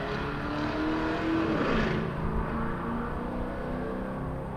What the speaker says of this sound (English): Sounds very V8-ish. I don't know what it is, but it sounds kind of cool.